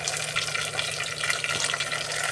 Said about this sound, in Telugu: ఇప్పుడు కొద్దిగా కరేపాకు వేసుకుందామండి